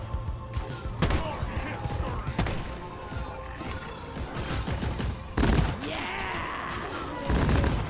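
Shots and bursts of weapon fire in Deep Rock Galactic, mixed with game effects and a brief voice, moderately loud with uneven spacing and a heavier burst after a short lull.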